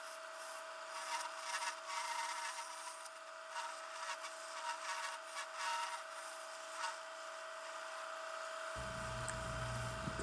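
Square carbide chisel scraping and rasping against wood spinning on a lathe while a Christmas nativity figure is turned, a steady close cutting noise over a constant motor hum.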